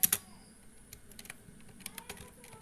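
Typing on a computer keyboard: irregular soft key clicks opening with a couple of sharper taps, close and fairly quiet, with no voice over them.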